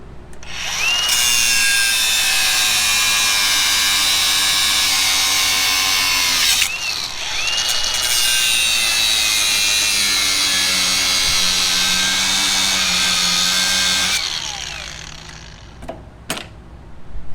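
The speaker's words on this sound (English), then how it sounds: "We've made it to the point of the grinder. So we're gonna remove these outer races." An angle grinder cuts out the outer bearing races on a broken, wedged axle shaft, whining loudly and steadily for two long passes with a brief break between, then trailing off into a few short bursts.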